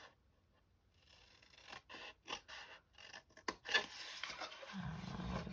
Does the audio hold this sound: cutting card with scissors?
yes